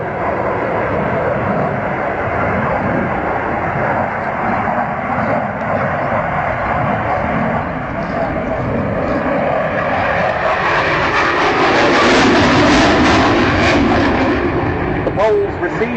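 MiG-29 Fulcrum fighter jet in a flying display at the RIAT 2012 airshow, giving a loud continuous engine roar that swells into a broader rumble toward the end.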